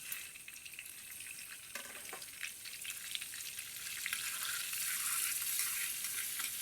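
Chili powder sizzling in melted fat in a small sauce pan for tripe soup, a steady crackling hiss that grows a little louder toward the end, heard alone without talk.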